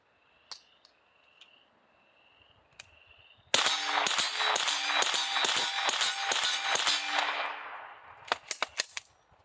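Suppressed gunshots from a Dead Air Wolfman suppressor on an 8-inch barrel firing 124 grain rounds, a rapid string of about ten sharp cracks in quick succession with metallic ringing, followed by a few scattered clicks and clanks, insects chirping faintly beforehand.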